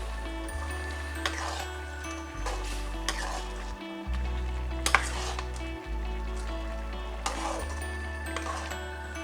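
Quail masala gravy is stirred in a pan, giving soft sizzling with repeated scraping strokes over a low steady hum.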